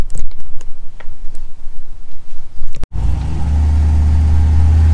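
A single-turbo Chevrolet Silverado truck starts with scattered ticks and light sounds, then its engine cuts in with a loud, steady, deep drone that builds into a rev and holds near the mic.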